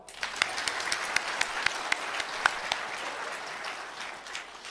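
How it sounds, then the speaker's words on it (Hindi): An audience at a Hindu spiritual durbar gathering claps, with scattered sharp individual claps over a soft, continuous spread of applause, moderately distant and fairly faint. "ताली तो बजा दो।"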